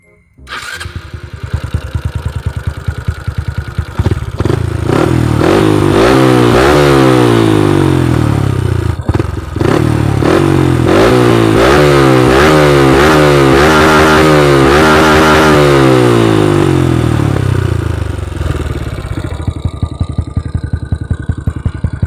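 A motorcycle with a modified, re-cut exhaust starts and revs hard with a loud, raspy exhaust, engine pitch rising and falling in repeated bursts before settling into a choppy idle.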